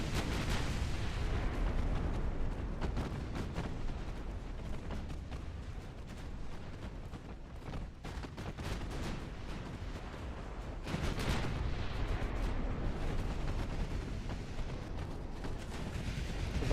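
Naval artillery in a warship video game, with heavy shells fired continuously in a dense, rumbling barrage of booms and blasts that persists throughout, with no break in the gunfire.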